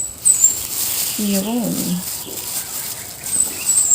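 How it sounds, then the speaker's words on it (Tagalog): A short, warbling bird call rises and falls over steady outdoor background noise, and a voice briefly speaks. "Pero ngayon naman yun, huni ng ibon ang napasabay."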